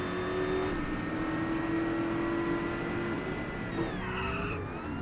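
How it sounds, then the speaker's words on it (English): Car tires skid under locked brakes in the GRID racing game, a sustained tonal squeal running over steady engine noise and shifting pitch as the car slides. "Oops, locked my brakes."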